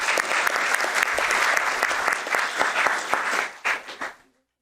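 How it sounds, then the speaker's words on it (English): An audience at a Milpitas city council meeting claps for a group of young scouts, a dense, even round of applause close by that thins into a few last claps and then stops. "Let's give these young folks a big round of applause."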